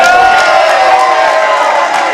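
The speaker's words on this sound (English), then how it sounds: "the Cicero-Costha-Fins in the crowd celebrating that guard pass" Fans in the crowd at a grappling match cheer a guard pass, a loud, dense roar of voices and whoops that stays steady throughout.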